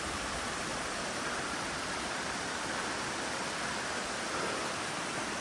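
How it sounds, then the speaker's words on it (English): A mountain waterfall in Azerbaijan's Gabala highlands roars as a steady, dense broadband rush of falling water, loud and continuous with no voices over it. "So guys, see waterfall here."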